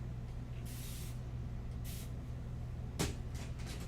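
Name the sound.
spraying black spray paint onto an acrylic painting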